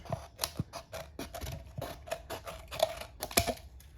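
Rapid, uneven snips of scissors cutting close by, crisp metallic clicks repeating throughout without any talking.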